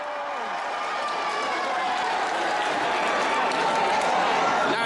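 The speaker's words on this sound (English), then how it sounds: "Why were people cheering, I wondered." Excited crowd cheering and clapping at a Thailand military draft lottery, a dense, steady roar of many voices that holds loud throughout with no pauses.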